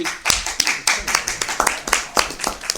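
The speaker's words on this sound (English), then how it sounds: "That is a worthy, of giving yourselves a round of applause" Meeting attendees at a town selectmen's session clap for themselves, a short burst of close, distinct handclaps with uneven rhythm and a little voice mixed in.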